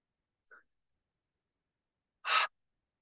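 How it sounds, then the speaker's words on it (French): One forceful breath is pushed out through the mouth with the tongue out during a Kundalini breathing exercise. It comes as a short, breathy whoosh close to the microphone after a tiny faint sound, with near silence around it. "Expire par la bouche en tirant la langue."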